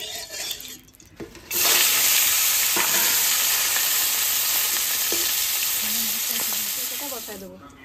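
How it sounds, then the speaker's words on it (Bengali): Fish seasoned with salt and turmeric hits hot oil in a wok: after a quiet second and a half, a loud, steady sizzle bursts in and carries on close up, with occasional faint clinks. "কড়াই গরম হয়ে গেছে, এবার তেল দিয়ে দেবো।"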